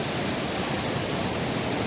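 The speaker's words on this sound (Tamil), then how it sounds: "பின்னாடி வந்து ஒரு பெரிய அருவி போகுது." A large waterfall in Kotdwar, Uttarakhand gives a steady, loud, broad roar of rushing water that fills the whole moment with no break.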